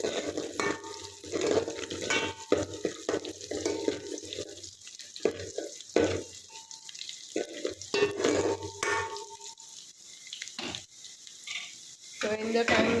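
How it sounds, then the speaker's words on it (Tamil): Onions sauté in a pan for a prawn curry, with an intermittent sizzle and repeated scraping stirs of a spoon against the pan, close and moderately loud. "ஸோ வெங்காயம் நல்லா வதங்கணும். ஒரு ப்ரௌன் கலரில் வர வரைக்கும் நம்ம நல்லா வதக்கணும்."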